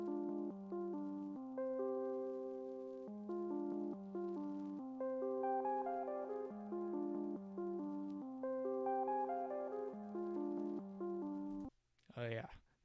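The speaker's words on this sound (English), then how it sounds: "It's a dark synth, is how what I named it and how I would describe it." A dark, moody synth loop at 140 BPM with sustained chords and a steady bass line repeating in bars, loud and alone, cutting off near the end.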